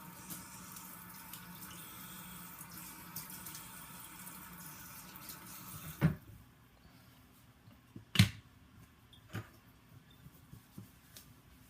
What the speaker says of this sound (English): Just rinse this stone really good.